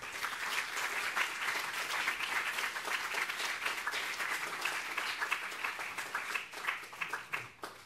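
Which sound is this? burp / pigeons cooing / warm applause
warm applause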